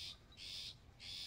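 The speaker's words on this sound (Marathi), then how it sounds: "पक्षी ओरडतोय आंब्याच्या झाडावर बसून येत." A bird calls from a mango tree in a village, giving three faint, shrill, repeated hoots or whistles at a steady pace against quiet background.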